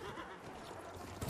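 Faint horse whinny and clip-clopping hooves from the video game Battlefield 1, quiet and brief within low background game noise.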